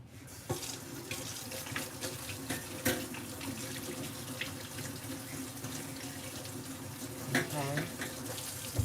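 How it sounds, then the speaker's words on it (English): Steady rush of tap water running from a kitchen sink faucet into the basin, continuous and fairly close throughout, with faint background noise and no clear talk. "over the sink, turn the water on."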